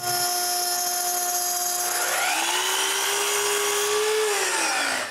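A router spins at a high steady whine, then bites into scrap plywood cutting a key, the pitch dropping and roughening into a loud, close cutting roar before easing off.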